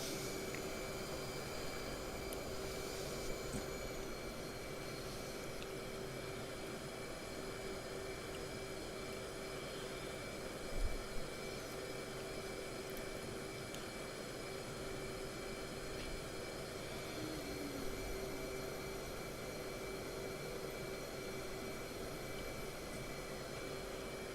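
An EF-18 Hornet jet taxis in the flight simulator DCS, its engines giving a constant, even whine and roar throughout, with a faint tonal hum and an occasional soft bump.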